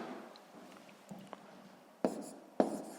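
Numbers are written by hand on paper during a fifth-grade multiplication exercise, giving a quiet, close scratching of the writing tool with a few sharper taps as strokes begin.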